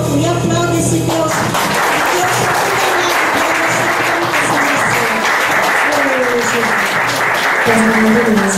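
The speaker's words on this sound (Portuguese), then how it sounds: "Levante suas mãos bem alto e aplaude esse Deus." A church congregation at a Baptist home worship service claps loudly and steadily throughout, with voices rising underneath the sustained applause.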